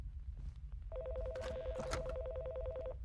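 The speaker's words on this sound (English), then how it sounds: "Phone ringing." A telephone rings inside a horror video game, a steady electronic trill that starts after a soft lead-in and repeats evenly for about two seconds at moderate volume.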